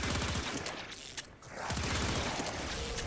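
Enemy gunfire in the sci-fi shooter game Warframe, rapid fusillades of shots in two bursts separated by a brief lull, steady and fairly dense, quiet in level.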